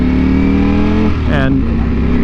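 A 2020 Ducati Panigale V4 motorcycle engine and exhaust running at part throttle, a steady droning hum that briefly rises in pitch as it revs midway, heard from onboard with wind.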